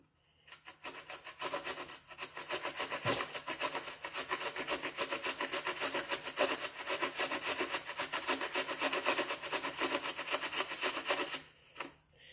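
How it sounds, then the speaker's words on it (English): An apple is rubbed quickly against a grater for a horse-treat batter, making a fast, even rasping scrape that continues for about ten seconds before stopping. "If you don't feel like grating an apple"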